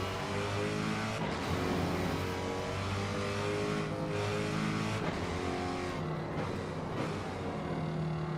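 A race car in the Rennsport racing game runs at speed with a steady, loud engine drone and some tonal shifts, as if crossing a rumble strip, continuous throughout with no talk.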